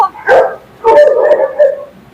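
Dogs at a large two-hectare farm kennel give a few loud, close yelping barks and whimpers in quick bursts, with some background voice.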